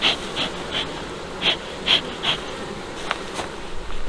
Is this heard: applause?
no